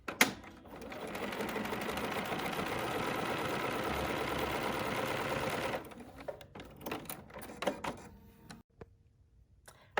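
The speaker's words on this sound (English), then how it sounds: "I am just going to use my straight stitch and adjust my stitch length to 6 millimeters long" A Bernina sewing machine running a long straight stitch hums steadily for about five seconds, then stops, followed by a few scattered clicks and handling sounds.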